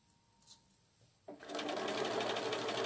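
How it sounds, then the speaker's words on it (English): A domestic sewing machine stitching along the edge of a piece of fabric; after a soft click and a short pause, the motor starts and runs as a loud, steady, fast whirring hum close by. "move the needle slightly over so that we're running against the edge of the fabric against the edge of the foot"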